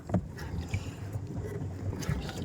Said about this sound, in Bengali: এবারে বোটটা আমি রাইড করছি, আমি চালাচ্ছি সামনে বোটটা।